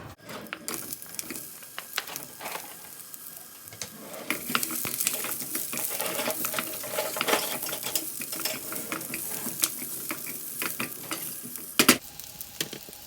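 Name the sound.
onions frying in warm peanut oil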